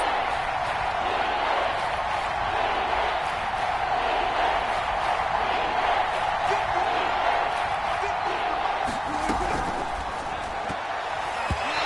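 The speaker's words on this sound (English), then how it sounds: "This is where the KC crowd can make it very tough" Kansas City football stadium crowd on third and goal in the first half, a dense continuous roar of many voices at steady loudness from start to finish, with occasional sharper shouts mixed in.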